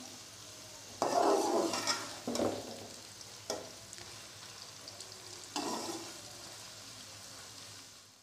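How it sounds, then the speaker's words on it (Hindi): Chopped onions fry in a pan for masala bhindi, a soft sizzle broken by several louder bursts of stirring and scraping, with no voices. "अब मैं प्याज को अच्छी तरह से फ्राई कर लूँगी।"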